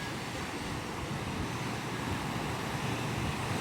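Ocean waves surge and wash continuously, loud and broadband with steady wind noise buffeting the microphone, suggesting rough open water during a sea crossing.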